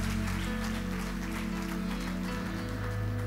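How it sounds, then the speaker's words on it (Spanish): A church congregation applauding steadily, a dense continuous wash of clapping filling the whole stretch, with a low musical hum beneath it. "Vamos a darle un fuerte aplauso al Señor."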